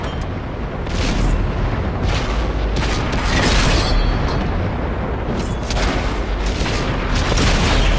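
World of Tanks combat in Berlin, loud continuous booming with layered explosions and cannon blasts. Sharp impacts recur across a dense rumbling roar.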